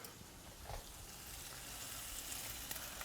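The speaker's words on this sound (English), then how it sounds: "You can hear that sizzle on it." Marinated steak sizzles in a hot pan, a quiet, steady frying hiss with no voices over it.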